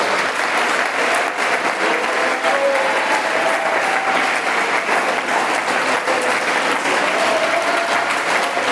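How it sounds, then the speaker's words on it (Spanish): A church congregation claps in loud, sustained applause during a sermon, a dense continuous patter of many hands that holds steady for several seconds. "Suelte ese aplauso para el Cristo vivo."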